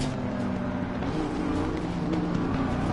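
A race car in a racing video game roars past on the left, a steady loud engine drone holding for a few seconds with no talk over it.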